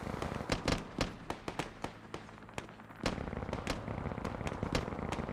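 Mortar shells landing in a video game, a rapid run of sharp cracking blasts and pops, some close and loud, others fainter, over a constant background rumble.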